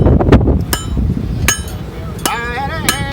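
Sharp metallic hammer strikes ring out at a DIY tech expo, four spaced blows roughly every three-quarters of a second, loud and close over a busy hall murmur.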